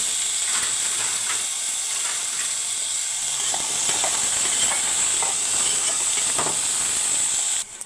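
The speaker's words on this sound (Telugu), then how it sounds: "ఇందులో ముందుగా మనం బంగాళదుంపలు వేసి ఫ్రై చేసుకోవాలి" Potato pieces frying in hot boiling oil for an egg-potato masala curry, a steady loud hiss and sizzle that runs unbroken throughout.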